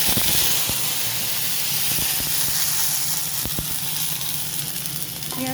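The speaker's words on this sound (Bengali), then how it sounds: "সর্ষের তেল দিচ্ছি কড়াতে। তেলটা গরম হবে, তারপরে আমি পেঁয়াজ বাটাটা দেবো।" Onion paste fries in hot mustard oil in a wok, a loud, steady steamy sizzle with occasional sharp pops and clicks of stirring throughout.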